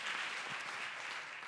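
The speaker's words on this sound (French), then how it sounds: "On les applaudit." A short burst of steady audience applause at an award ceremony for a new-economy prize, an even wash of many hands clapping from a crowd.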